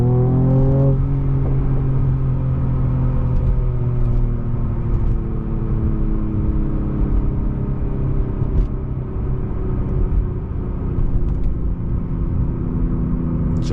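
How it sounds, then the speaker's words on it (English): Mercedes-Benz E53 AMG Coupe exhaust, revs building and then a hard 0-60 launch, loud rising engine tone climbing through gears from inside the car, with no talk. "Building up the revs and launch"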